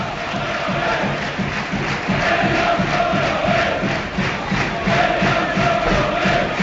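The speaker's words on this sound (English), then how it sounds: "Crowd trying to get behind them." Football crowd at a Premier League match between Bournemouth and Newcastle, a steady roar of cheering and rhythmic chanting from the stands, sustained and fairly loud throughout.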